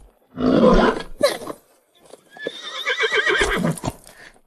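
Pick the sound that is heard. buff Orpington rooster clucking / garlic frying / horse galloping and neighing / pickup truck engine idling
horse galloping and neighing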